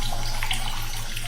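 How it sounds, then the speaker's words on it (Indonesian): Water tap running steadily in a bathroom, a continuous splashing hiss with a low hum underneath, fairly faint and with no voices. "keran air itu tidak juga berhenti"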